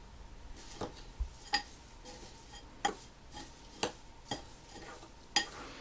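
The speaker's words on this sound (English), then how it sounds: "Now we just give it a stir." A spoon stirs a herbal bath soak mixture of salts with green tea, jasmine and peppermint, giving quiet scraping swirls broken by sharp clinks against the container about every second.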